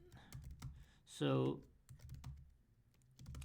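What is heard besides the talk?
computer keyboard typing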